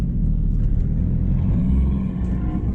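A 2012 Fiat Abarth 500 with an aftermarket exhaust, bolt-on mods and a stage 1 tune, driving with a steady, loud low-pitched engine and exhaust rumble that holds throughout.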